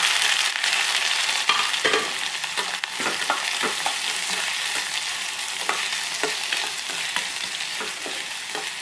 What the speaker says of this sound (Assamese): পিঁয়াজ দি দিলোঁ।